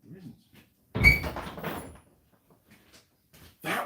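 An indoor door is opened and then closed, giving a few soft knocks and thumps around a burst of nearby talk, with quiet pauses in between.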